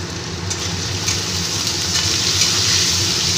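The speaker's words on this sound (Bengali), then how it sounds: "একটু হলুদের গুঁড়ো দিয়ে আলুটাকে আমি ভেজে নিচ্ছি" Steady hiss and crackle of potatoes frying with salt and turmeric in a hot pan, continuous and close, with no talking.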